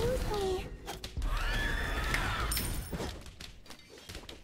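A horse whinnies in a video game, a loud descending neigh over dense game sound effects and clatter, lasting a couple of seconds.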